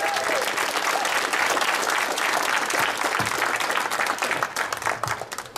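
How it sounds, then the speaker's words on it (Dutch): Crowd at a fight event applauding loudly before a result is announced, dense clapping that stays strong and then thins into scattered claps near the end, with some voices mixed in. "geef ze alsjeblieft een daverend applaus"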